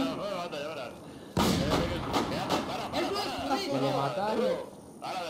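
Sharp bursts of gunfire in the game Infestation break out suddenly and keep cracking in quick succession, loud and close, while voices talk over the shooting.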